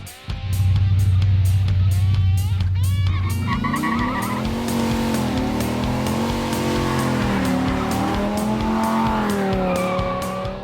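A Ram SRT-10 pickup truck does a long drag-strip burnout at a truck build-off, with a deep engine roar that rises into loud, sustained tire squeal with shifting pitch.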